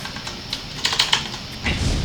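Someone types on an ASUS ROG Gundam Strix Scope TKL gaming keyboard, producing a few soft, scattered clicks with a brief cluster in the middle over faint room noise.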